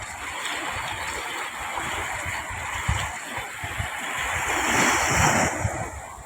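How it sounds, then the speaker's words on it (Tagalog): Small river waves lapping near a moored boat, a soft continuous wash of water with gentle splashes and light wind rumble, fairly faint and steady throughout. "Yung alon niya hindi lang gano'ng malaki. Pero sa laot yung malakas."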